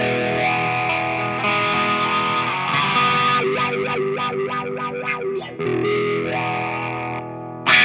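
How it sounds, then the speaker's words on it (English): A 1996 Fender Stratocaster Ultra electric guitar played through spring reverb and effects, with sustained chords, a run of picked single notes in the middle and a final strum, loud and close. "Throw a little reverb on there, a little bit of the spring hall or church on."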